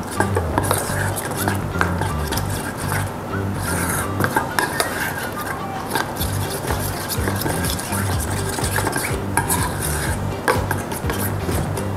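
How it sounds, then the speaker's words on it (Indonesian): A utensil stirs flour batter with water in a bowl, making continuous scraping and clinking against the sides at a steady close pace, with a faint low murmur underneath. "ini diaduk-aduk aja hingga larut atau tidak ada yang menggumpal ya."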